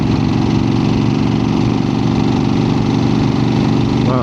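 A 1975 Harley-Davidson XLCH motorcycle with a rebuilt engine runs steadily, loud and close, a continuous rumbling idle without pauses or speech.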